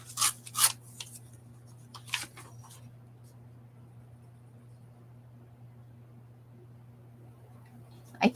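Magazine paper is torn along a ruler, heard as a few short, crisp rips near the start and a final one at the end, separated by a quiet stretch over a steady low hum.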